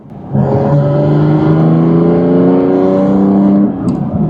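Porsche GT4 RS engine revved under light throttle, a loud close-up rising rev that climbs smoothly and holds for a few seconds before dropping off, with no talking.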